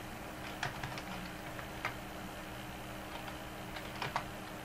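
Light typing on a computer keyboard: a few scattered clicks and short bursts of keystrokes, close and fairly quiet over a faint background hum, with no talking.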